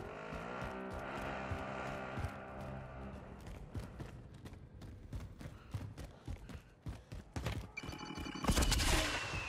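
A vehicle in Call of Duty Modern Warfare revs and drives off, engine tone rising with rattling bursts of gunfire, then a harsh rush of noise near the end.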